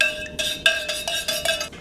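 A spoon clinks against the inside of a glass of water while electrolyte powder is stirred in, giving about seven close, bright metallic taps in an uneven rhythm over a couple of seconds.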